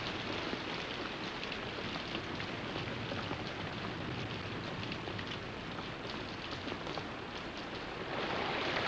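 Heavy rain pours steadily through a rainforest canopy, a dense, continuous hiss of drops on leaves that stays loud and even throughout, swelling slightly at the end, with no voices.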